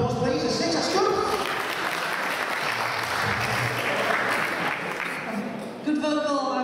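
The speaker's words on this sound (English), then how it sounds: "Round of applause, please." An audience applauds a singer after a vocal performance at a Bridlington event, steady full clapping that holds for several seconds before tapering off, with talking heard over it near the end.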